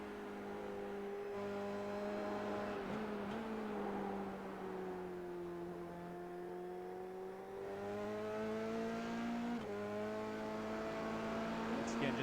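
Onboard sound of a Formula Regional race car driven by race leader Sikorsky, a steady high engine whine that dips and climbs through gear and speed changes, continuous under a commentator's talk.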